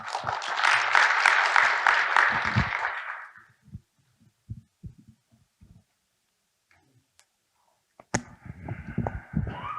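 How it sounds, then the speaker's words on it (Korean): Audience applause at a formal general assembly of university presidents, a dense clapping burst that tapers off within about four seconds, then scattered claps, near silence and a few knocks before noise resumes. "박수로 맞이해 주시기 바랍니다."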